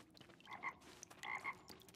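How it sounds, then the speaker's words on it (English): Two loud, close frog croaks in the video game Luma Island, each a short burst of throaty calls, the first around the half-second mark and the second just after one and a quarter seconds, separated by a quieter gap with faint ambient game sound. "Frog? Okay. Very loud frog."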